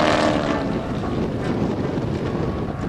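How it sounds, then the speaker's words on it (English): A stock Stearman biplane flying upside down in a slow roll at an air show at NAS Oceana gives an irregular, distant engine drone mixed with heavy wind noise. "Listen for the engine to sputter."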